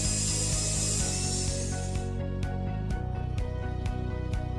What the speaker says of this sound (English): The first step is to cut the bottom flange of the top clamps that hold the piece.